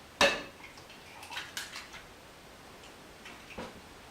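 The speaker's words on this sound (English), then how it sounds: "So that's the first egg, and we're going to mix it." Eggs being mixed in a bowl, with sharp utensil clinks and taps against the dish: one loud strike, then scattered lighter ticks and scrapes, close and alone.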